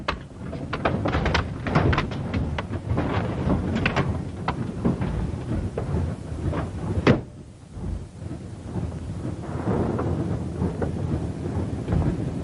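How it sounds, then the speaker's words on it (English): Heavy thunder and storm noise at sea rumble and crack in a 1951 live television drama, loud rolling bursts and sharp claps with a brief lull before the storm roar builds again. "We're heading into a bad storm."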